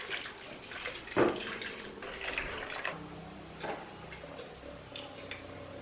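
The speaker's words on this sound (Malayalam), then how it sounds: "ഇനി ഈ ജാറൊന്ന് കഴുകി ഒഴിക്കാം." Rinse water pours from a mixer jar into a pot while a fish head curry is being prepared, making a short, faint splash and trickle followed by a few light clinks.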